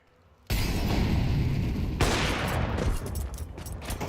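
Gunfire in a Counter-Strike esports match: a dense, sustained burst of shots starts suddenly, a sharp crack punches through midway, and firing continues loud and unbroken with no talk.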